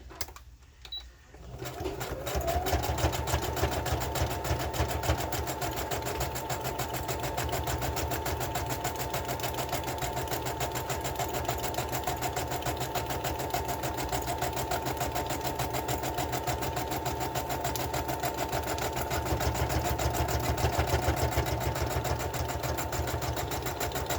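A sewing machine stitches a ribbon flat onto a collaged journal cover, starting up after a short pause and then running in a fast, steady, close mechanical whir without stopping.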